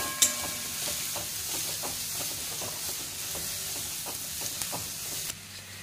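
Red chilli powder, homemade black masala and kitchen king masala are mixed in a hot frying pan for dal fry, giving a continuous close sizzle with regular scraping strokes of a spoon, until the sizzle drops away at the end.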